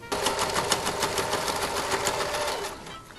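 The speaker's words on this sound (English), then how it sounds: "And I'll just sew it, just kind of wrapping it as I go." A sewing machine runs steadily, stitching double-fold bias tape around the edge of a dirndl, its fast even needle rhythm close and loud throughout before stopping at the end.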